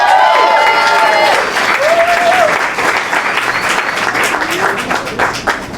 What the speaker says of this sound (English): Can we have a round of applause for our incredible hosts?